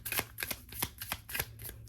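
Oracle cards shuffled by hand in a steady run of crisp riffling bursts, close and clear, repeating about every third of a second with no voices.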